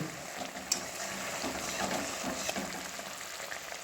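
Mustard hilsa curry bubbling in a pot on a gas stove, a continuous close simmering hiss with a couple of sharp clicks from the cookware and no voices.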